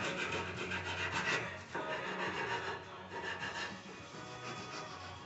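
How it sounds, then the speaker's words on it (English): Wood sanded by hand for a sink base floor repair, a steady close rasping scrape with slight rhythmic strokes and no speech. "I'll give it a quick sand, and we'll go in and see how it works."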